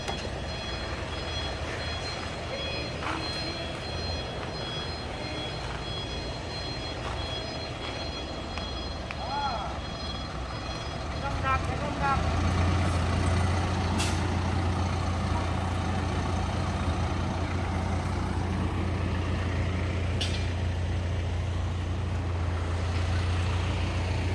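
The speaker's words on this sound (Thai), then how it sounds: "อันนี้ก็บรรยากาศบรรยากาศภายในอู่นะครับ" Steady low engine rumble of trucks idling inside a Thai truck body-shop garage, with scattered clanks, hisses and workshop noise; a heavier engine drone swells midway and holds to the end.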